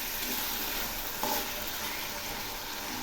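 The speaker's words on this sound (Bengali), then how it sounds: "এই জলগুলোর সঙ্গেই মশলাগুলো ভালো করে কষিয়ে নেব।" Spices frying in oil with a little water in a pan, a continuous close sizzle with a faint stirring scrape partway through, no talk.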